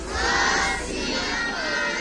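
Sikh congregation shouting the jaikara response to Bole So Nihal, a brief loud massed roar of many voices sustained for about two seconds.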